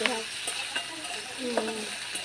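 Tomatoes cooking in a wok make a close, continuous sizzle, with several soft knocks and scrapes from a stirring utensil and faint background noise.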